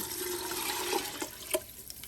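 Water poured into a pot of rice that has been sautéing in ghee, a short splashing, gurgling pour heard up close and fairly quiet, with a couple of brief clinks near the end.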